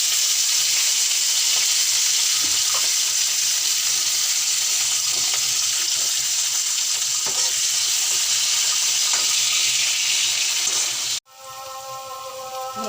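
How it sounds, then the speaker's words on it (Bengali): Chopped onions sizzle and fry steadily in hot salted oil in a pan, a loud continuous crackle running for about eleven seconds before it abruptly drops and quieter, fainter sizzling continues. "পেঁয়াজ ভাজা ভাজা হয়ে গেছে।"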